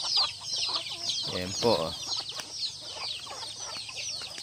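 Chickens and small chicks on a backyard farm cluck and cheep continuously, with bursts of louder clucking mid-way, while a person speaks briefly.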